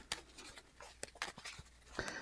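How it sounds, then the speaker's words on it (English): Soft, quiet riffling and sliding of game cards being shuffled, a few irregular papery bursts close by with no talk. "and we shuffle up"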